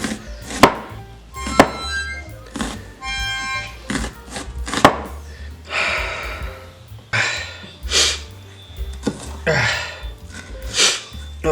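A dull knife chops through a strong red onion in a kitchen in irregular hard knocks, mixed with sniffing, gasping breaths and short vocal sounds close to the mic.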